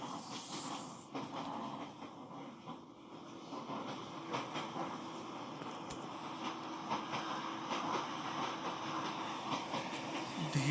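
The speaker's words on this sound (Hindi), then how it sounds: "अब आपकी ट्रेन उसी प्लेटफॉर्म पर आपको ले आएगी जिस प्लेटफॉर्म पर आप चढ़े थे।" A train rolls in toward a station platform as a steady, low rumble with faint rhythmic clatter and hiss, building slightly in loudness over time, with no voices.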